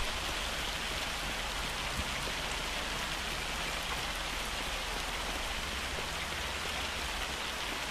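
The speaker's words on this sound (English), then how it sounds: "It's a severe hailstorm." A severe hailstorm in the farming video game Farming Simulator 25 produces a steady, dense hiss of rain and hail pattering on surfaces, constant and fairly soft with no voices.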